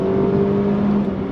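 A Mercedes-Benz CLA 250 with its 2.0L four-cylinder engine pulls hard at full throttle after a downshift, a steady, loud droning whir that holds its pitch through the short stretch, no talking.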